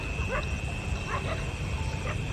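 Dogs barking in a jungle setting at night, a few distant, faint yips and barks repeating over a steady hiss of insects and background noise.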